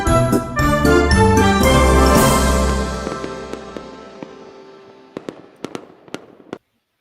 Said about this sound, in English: Fireworks setting the mood for the energy that we like to enjoy here.